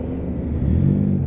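A lorry drives past on a cold road, heard from a Honda NT700 Deauville motorcycle; a steady close engine rumble with low droning tones that swells slightly as it passes.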